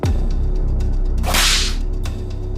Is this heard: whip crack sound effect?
yes